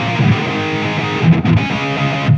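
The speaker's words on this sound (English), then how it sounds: "Now remember, that's the distortion sound I used for everything." A Zoom 505 multi-effects processor running a heavily saturated distortion patch with plenty of reverb on electric guitar, played as sustained, dense chords with a few brief picking breaks, loud and continuous without voices.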